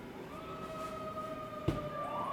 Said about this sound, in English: The sirens are coming, they're after me.